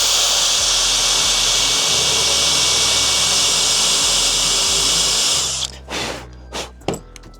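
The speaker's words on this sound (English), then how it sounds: "get your 35mm Forstner bit, drill where you've marked to the depth of your hinge." A loud, steady high-pitched whine of a drill boring 35mm Forstner bit hinge holes for a built-in wardrobe runs for several seconds, then cuts off, followed by a few short knocks and clatters.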